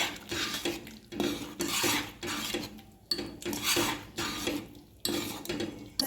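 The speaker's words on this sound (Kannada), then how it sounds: "ಈಗ ಮಿಕ್ಸ್ ಮಾಡ್ಕೊಳ್ಳೋಣ" Chilli and coriander powder being stirred into oil in a pan while cooking karibevina soppu gojju, with rhythmic metal spoon scrapes and clinks against the pan repeating steadily, close up.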